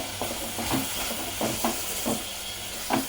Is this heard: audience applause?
no